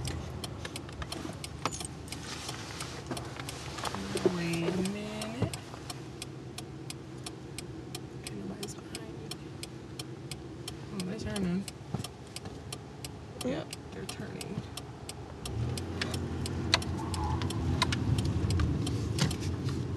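A car being driven on a road during a driving lesson, a steady low engine and road rumble inside the cabin with a rhythmic turn-signal ticking and some brief murmurs of talk.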